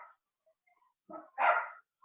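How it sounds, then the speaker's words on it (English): A dog barks twice nearby during a quiet pause, the second bark louder and fuller, with faint brief sounds before and after. "I don't know who's got a dog that's barking"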